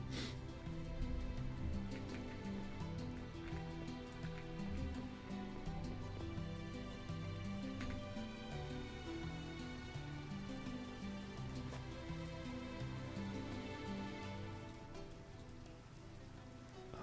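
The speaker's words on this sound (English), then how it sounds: "Oh, so much cozier with the rain." Steady rain falls in Minecraft, a soft continuous patter of drops on surfaces that stays faint and even throughout with no talking.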